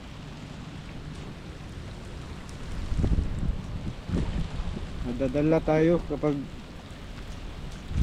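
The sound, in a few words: strong wind during a thunderstorm while fishing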